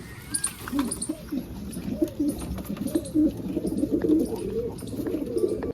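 American pigeons at a breeder's loft coo repeatedly in a steady, overlapping chorus of low throaty calls, close and moderately loud, with faint bird chirps above.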